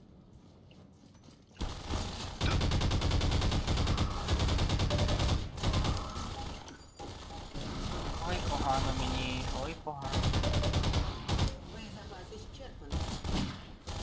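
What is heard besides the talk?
gunfire in video game Half-Life 2: Lost Coast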